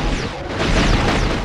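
A heavy-weapons mortar fires in the game Future Cop LAPD, a loud, dense booming blast that rumbles and roars steadily for a moment.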